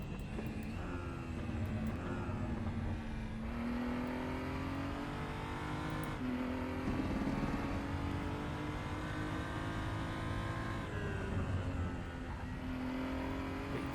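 A BMW M235i Racing's engine drones loudly and steadily around Zandvoort in a racing game, its pitch climbing and dropping through gear changes with no pauses.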